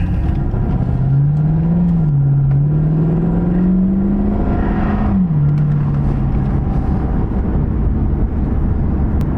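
A 2013 Chevy Caprice police pursuit vehicle pulls out onto the road, its engine droning steadily and close, with a clear rev rise and fall as it accelerates, then settling into a continuous cruising hum.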